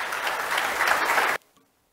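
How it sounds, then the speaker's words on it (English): An audience at the opening ceremony of an international conference claps in a dense, loud burst that cuts off sharply after about a second and a half, leaving near silence. "Can we have a huge round of applause for him, please?"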